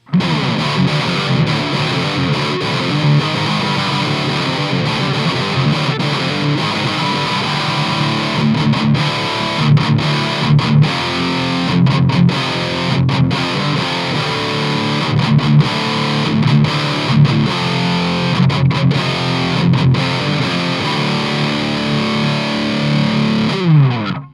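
Heavily distorted electric guitar played through a Celestion Vintage 30 and a Karnivore speaker together, continuous and loud, thick chords with a wide, layered tone and no talking.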